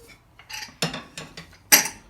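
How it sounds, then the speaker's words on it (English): Chunks of mutton dropped into a metal pressure cooker give several quick clinks and soft thuds spaced over two seconds, ending in one sharper, louder metallic knock. "So I'll be adding that mutton into the pressure cooker."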